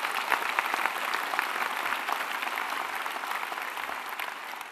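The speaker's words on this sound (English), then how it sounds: "give him a round of applause" Steady applause from a crowd at a Queensland LNP election campaign launch, dense clapping that holds at an even level throughout and eases slightly at the end.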